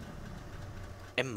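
A Mercedes O530 Citaro articulated bus engine idles in a bus simulator, a steady low diesel rumble throughout with a sharper mechanical clunk near the end, while someone talks over it.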